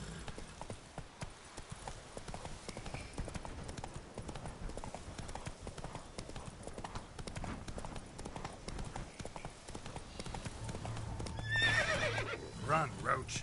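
Roach the horse gallops in The Witcher 3, with a steady, rapid clip-clop of hooves running throughout and a whinny near the end, layered over game ambience and music.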